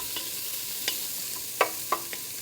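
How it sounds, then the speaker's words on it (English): Garlic sautés in a pan over lowered heat for chili, giving a faint, steady sizzle broken by a few sharp clicks and scrapes of stirring. "we're going to get that sauteing just until we can kind of smell the garlic"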